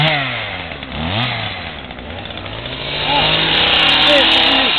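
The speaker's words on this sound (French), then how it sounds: "toi tu coupes l'herbe avec la tronçonneuse." A chainsaw revs unevenly while cutting grass outdoors, its engine whining up and down in pitch with loud, steady intensity as voices talk over it.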